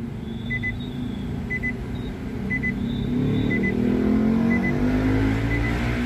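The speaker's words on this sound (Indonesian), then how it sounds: "ada mobil di depan gua keluar." A car pulls out ahead while a steady engine rumble fills the cabin, with soft electronic beeps repeating about once a second alongside a 360-degree camera display.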